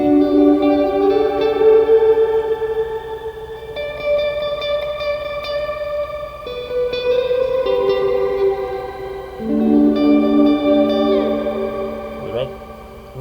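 Sustained electric guitar notes through a MVAVE Black Box shimmer reverb, octave-up shimmer that blooms and lingers, with chords swelling and overlapping, no talking.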